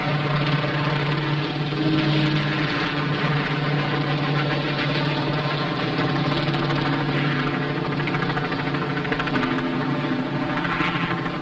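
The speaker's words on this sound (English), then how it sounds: "Here come the choppers, buddy." A loud, steady rotor and engine drone fills the air as firefighting helicopters pass nearby over a wildfire, continuous throughout without voices.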